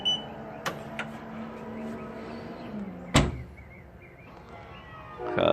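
A Hansshow power trunk on a Tesla Model 3 shuts with a sharp, solid slam near the middle, preceded by a fainter motor whir and a couple of lighter clicks, with another thump at the end.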